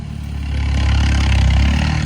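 A steady low tractor engine rumble idles throughout, swelling slightly louder after the first half second, with a faint mechanical clatter on top.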